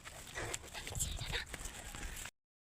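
A puppy at a relative's home whimpers and yips in short, close bursts, mixed with a voice talking to it.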